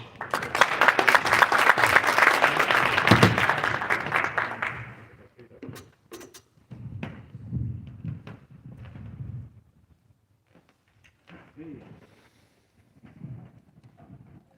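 Audience applause at an AI and cybersecurity conference as a speaker is welcomed to the stage, a dense burst of clapping filling the room for about five seconds before fading into scattered claps, shuffling and murmuring.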